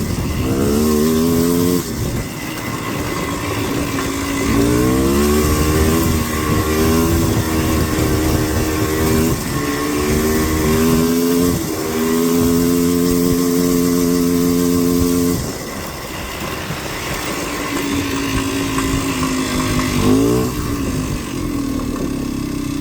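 A Polaris Sportsman ATV engine running while riding over bumpy ground, a loud, close droning motor that rises and falls in pitch as the throttle changes.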